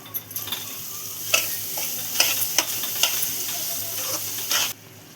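Semolina (rava) roasts with sugar in a pan over a low flame, stirred steadily with a utensil. A continuous soft sizzle runs under repeated close scrapes and knocks against the pan.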